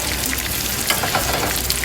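Hazelnut butter sizzles in a pan while cooking sea bass, a steady close crackle and hiss of frying fat with small irregular pops.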